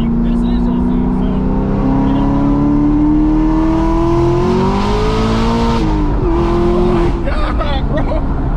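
A 1,000 HP Camaro ZL1 accelerating hard with its tires sliding, a loud, close engine roar rising in pitch for several seconds, while people talk excitedly over it.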